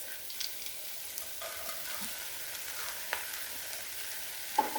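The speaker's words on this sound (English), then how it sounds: "So you're just going to stir that up with those veggies that we put in there." Split peas and chopped vegetables are stirred in a soup pot, giving a quiet, steady sizzle with faint scraping strokes of a spoon and an occasional soft knock against the pot.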